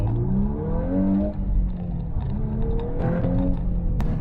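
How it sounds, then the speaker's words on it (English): A 2022 Volkswagen Golf R engine in race mode revs and climbs in pitch, rising louder through the gears with a steady, throaty drone. "car gets a little bit louder."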